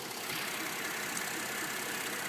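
A 3.5-liter V6 EcoBoost engine in a 2012 Ford F-150 idles with a steady, smooth hum, heard up close from under the raised hood. No one speaks over it.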